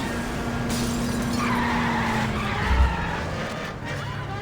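A slow car skidding and driving in the video game L.A. Noire: a steady engine drone with a tire squeal sweeping across it and a brief thump near the end.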